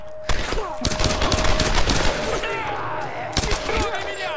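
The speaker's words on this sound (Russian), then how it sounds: "Стреляют." Gunfire in the Tomb Raider video game, a dense volley of loud rapid shots with impacts and debris, and a voice speaking over the battle.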